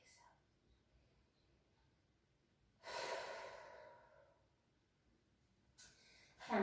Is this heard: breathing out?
yes